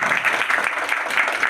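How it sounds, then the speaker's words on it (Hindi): An audience claps to welcome a guest at a voter awareness event in an office in Dhanbad, a short, steady burst of many hands clapping together at close range. "यहाँ पर हम एक बार तालियों के साथ श्वेता मैम का स्वागत करेंगे"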